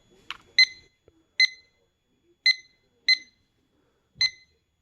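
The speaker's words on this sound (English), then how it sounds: "the alarm goes off after you press the set button" An IKEA Klockis digital alarm clock gives short, sharp electronic beeps, about six spaced single chirps heard close up in a quiet room, with a few faint button clicks.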